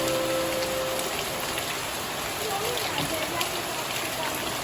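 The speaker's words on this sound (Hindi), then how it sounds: "बारिश और तेज़ हो गई" Steady, dense mountain rainfall in Himachal Pradesh, India, pours without pause, a constant hiss of drops hitting surfaces, with no voices rising above it.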